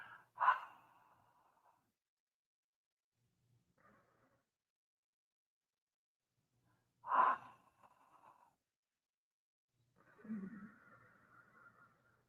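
Ujjayi yoga breathing, the breath constricted at the back of the throat, sounds as a few separate breathy exhalations with quiet gaps between them. The last one is longer and rougher.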